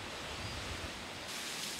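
Heavy sea waves surge over a pier on a small remote island in rough weather, a steady loud wash of surf noise with no voices.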